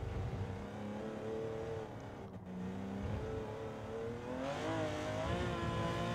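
A Porsche 917 race car engine in Gran Turismo 7 at Spa howls with a rich harmonic drone, dipping briefly during a lift and brake before revving and climbing again, loud and close throughout.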